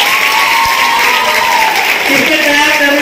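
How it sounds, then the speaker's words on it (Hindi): Students at a junior college naat recitation competition applaud loudly and steadily, with a voice heard over the clapping. "1 नंबर के हिसाब से तालियां होनी चाहिए बच्चे।"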